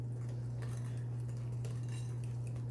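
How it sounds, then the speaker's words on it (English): A whisk beats the wet ingredients for banana cream cheese bread in a bowl, a steady run of light metallic clinks and stirring scrapes over a constant low electrical hum. "So I just use a whisk for this part"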